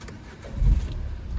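The 1.5 dCi diesel engine of a 2012 Nissan Qashqai cranks and catches with a short low thump, then settles into a faint steady idle close by.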